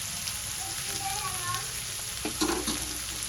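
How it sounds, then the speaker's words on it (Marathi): Peas, carrots, spring onion and capsicum with salt stir-fry in a pan for veg fried rice, giving a steady close sizzle with a brief burst of scraping and clatter near the end. "मी परतून घेऊया."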